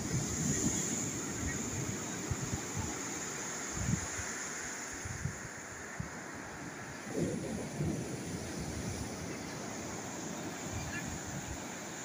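Ocean surf rolls onto the beach at Praia de Cabeçudas as a steady, full-band roar with wind, soft irregular swells and thumps of breaking water throughout.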